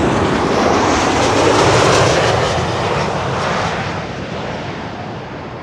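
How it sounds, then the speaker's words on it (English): A Transavia passenger jet landing at Schiphol on the Kaagbaan runway gives a loud, steady engine roar close by that gradually eases off toward the end. "This is Transavia arriving from Thessaloniki in Greece."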